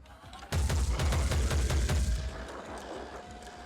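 Rapid burst of gunshots in the tactical game Phoenix Point, a loud volley of closely spaced shots lasting about two seconds before trailing into fading echoes.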